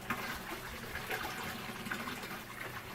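Warm tap water running steadily into a pan set out for cleaning copper, a soft continuous rushing pour at low level with no voices.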